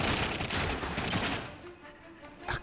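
Rapid gunfire from the video game The Darkness II, dense bursts of shots under continuous game noise that thin out near the end.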